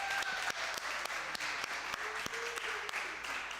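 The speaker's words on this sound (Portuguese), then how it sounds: "Você pode dar uma salva de palmas, irmão?" Congregation applauding in a church, a dense burst of clapping with some distinct individual claps standing out, lively and close, with no speech over it.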